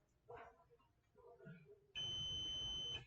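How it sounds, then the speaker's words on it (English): A kitchen timer beeps as one steady, loud electronic tone lasting about a second, close by, after quieter household sounds and some talk. "There goes that timer."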